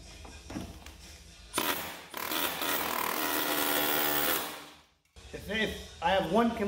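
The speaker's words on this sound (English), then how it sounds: "what I'm using here is an air chisel with a sheet metal cutting bit" An air chisel with a sheet metal cutting bit chops through a Silverado cab corner, giving a loud, continuous rattling buzz for about three seconds, with quieter shop sounds and brief talk before and after.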